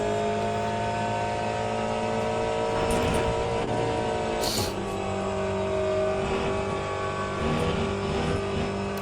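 The engine of a P2 prototype race car in Le Mans Ultimate snarls steadily as it climbs a hill, its pitch dropping with an upshift partway through, with a brief sharp click and the drone continuing close and loud.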